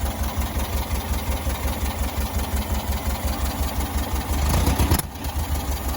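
A Volkswagen Beetle engine idles with a steady, lumpy low throb, rising briefly in revs near the end before settling back, with no voices.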